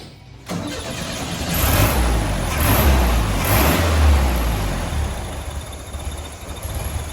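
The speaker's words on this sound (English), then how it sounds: "So I'm gonna show you this tire spinning forward all 4 gears and backwards reverse." A 1967 VW Beetle engine, its carburetor once clogged with varnish, runs with a drive wheel spinning in gear. It gives a steady, close mechanical drone with rushing, whooshing swells, with no voices heard.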